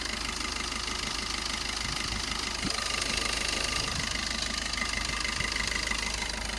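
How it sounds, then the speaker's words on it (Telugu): A 2019 Swift Dzire VDi diesel engine idles at a showroom, giving a steady, even low rumble with a faint rhythmic knock, heard close up and continuous throughout, with no voices. "ఇంజన్ నాయిస్ కూడా ఎక్సలెంట్ అంటే ఎక్సలెంట్ ఉందండి"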